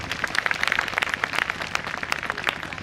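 A church program audience claps for God, a dense, steady patter of many hands filling the room at moderate loudness, sustained without pauses and without voices.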